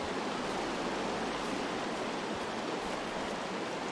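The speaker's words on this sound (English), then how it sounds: "waterfall" A waterfall in the game Firewatch rushes in a steady, dense, unbroken roar that stays even in loudness throughout, with no voices over it.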